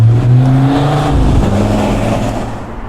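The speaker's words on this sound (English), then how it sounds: "Sorry about the traffic noise." Traffic at a busy main road junction on the edge of Blackpool, a loud nearby car engine accelerating and passing, with rumbling road noise that fades slightly at the end.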